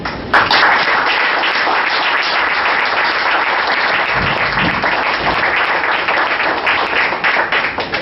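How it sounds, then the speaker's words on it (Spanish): Audience at an art conference in Tamaulipas claps in a full, steady round of applause, loud and continuous for about eight seconds with a few nearer, heavier claps standing out. "le pido nuevamente un aplauso"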